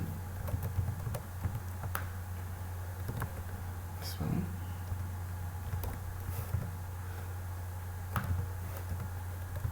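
Computer keyboard keys clicking in short, uneven bursts while commands are typed to compile the Abinit software, set against a steady low electrical hum.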